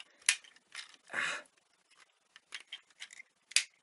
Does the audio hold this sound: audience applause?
no